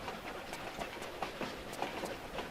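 Train rolling on rails in the Tomb Raider IV video game, a steady rumbling clatter with recurring clicks and rattles at an even pace, heard alone with no voices.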